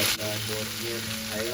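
Close, steady sizzling and crackling of lentils and ginger frying in oil, with a faint tonal hum underneath.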